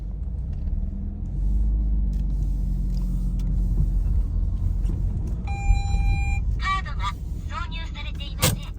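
A 1997 Mazda RX-7 FD RS-R rotary engine settles into a low, steady idle just after starting, a close rumbling drone with some creaks and mechanical clicks, plus a brief sharp clatter near the end.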